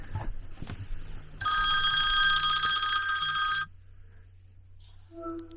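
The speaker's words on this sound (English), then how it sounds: "the phone is ringing" A telephone rings in a home, one bright, sustained electronic ring of about two seconds, loud and close, with a quieter tone at the end and no talking.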